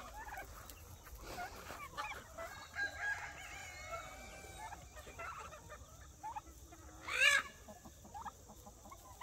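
Chickens and a rooster mill about on a homestead with soft clucks and scratchy calls at a distance, and one sharper, brief squawk stands out near the end.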